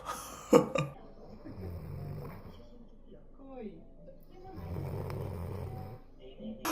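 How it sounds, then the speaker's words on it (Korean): Snoring played back from a recording, with two loud rasping breaths in a row followed by a quieter stretch and another long snore, with some throat noises between. "너 이거 봐봐 하고 봤는데 제가 코를 골고 있더라고요"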